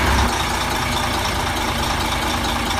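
A Shaanxi X3000 truck engine runs at a steady idle, a continuous low rumble that holds even throughout, close by and moderately loud.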